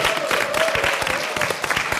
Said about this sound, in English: Y'all can clap for statehood for D.C.